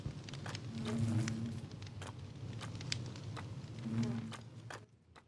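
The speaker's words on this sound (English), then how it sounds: "I just hear a bee in here." A bee buzzes inside a Minecraft game world, a faint steady hum that swells twice, under ambient game noise and occasional clicks.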